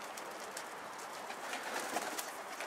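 Pigeons in a coop make a steady soft mix of cooing and rustling that stays even throughout, fairly faint and without voices.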